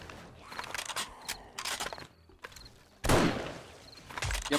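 Gunfire and explosions during a blood moon horde night in the zombie survival video game 7 Days to Die: scattered rapid shots and bangs, then a louder blast past the midpoint, moderately loud with no talking.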